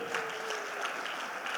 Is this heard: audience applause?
yes